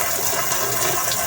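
A Eureka washing machine drains water in a steady, loud, broadband gush that runs without a break, with no voices over it.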